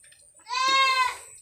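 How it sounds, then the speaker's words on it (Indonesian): A noisy young goat kid lets out a single loud, nasal bleat lasting about half a second, close and clear against a quiet background. "Ini paling cempe-cempe paling cerewet."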